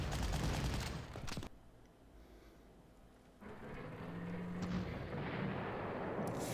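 Artillery fire in the Panzer Corps strategy game, a loud booming blast that fades into a quieter lull before a second rumbling barrage rolls in, with no talking.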